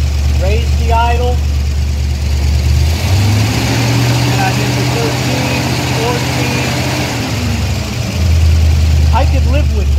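A car engine on a Mopar electronic voltage regulator charging test idles, rises to a higher steady speed for several seconds, then settles back to idle. Someone talks over the engine.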